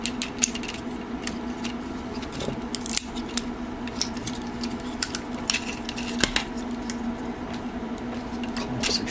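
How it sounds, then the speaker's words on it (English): Plastic shoulder parts of a Takara Tomy MPM-12 Optimus Prime toy clamping into place, heard as a series of close, sharp clicks and snaps over a steady background hum. "Clamps the shoulder bits into place."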